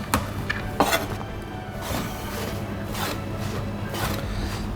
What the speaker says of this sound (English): going to cut the crusts off some bread, and if it's day-old bread, it's all the better